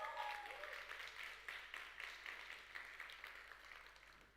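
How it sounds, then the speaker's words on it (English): An audience applauds the nine finalists of a grand-finale pitch competition, with steady, dense clapping that fills the hall and holds at an even level, tapering only slightly toward the end. "Let's give them another round of applause"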